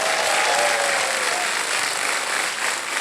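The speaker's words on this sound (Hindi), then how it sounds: "तालियां बज जाए इनके लिए।" A studio audience at a TV quiz show applauds in a steady, dense roar of clapping that holds loud and even throughout, close and full.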